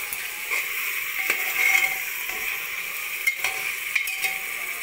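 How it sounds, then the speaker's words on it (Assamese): Chicken meat stirred and frying in a pot or cooker, a steady bright sizzle running throughout with intermittent scraping clicks of a spoon against the metal, close and unaccompanied by talk. "মাংসখিনি অকণমান ফ্ৰাই কৰি ল'ম"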